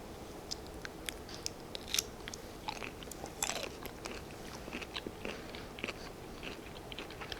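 Close, crisp chewing and biting while eating shrimp with cocktail sauce, mukbang style: irregular crunchy bites and mouth sounds over several seconds, with no talking.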